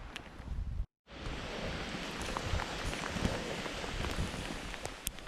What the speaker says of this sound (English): And it's pouring down rain.